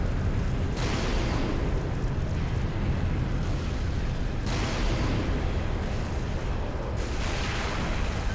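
Explosions in the video game Tip of the Spear as an air strike hits a tank, heavy deep booms arriving in several waves over a constant loud rumbling roar of battle.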